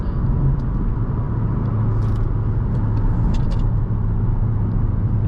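A 2018 Mazda 3 Grand Touring accelerating on the road, heard from inside as a loud, steady low engine and road rumble with faint ticks and rattles over it.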